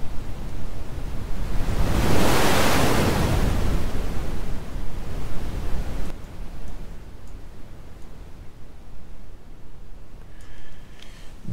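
Dark, rumbling broadband noise from the Airwindows DarkNoise plugin algorithm, a steady hiss weighted toward the low end that swells in the first seconds and then settles into a quieter, thinner wash with no voices.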